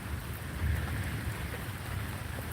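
Steady rain from Tropical Storm Elsa falls in Florida, a dense, constant hiss of drops on surfaces with a low rumble underneath, with no voices.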